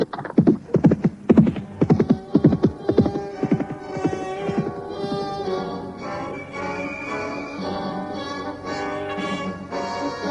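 Horses carrying supplies are mounted and set off, hooves clip-clopping in a quick rhythmic run of hits, then fading into a sustained tonal drone of music that carries on to the end.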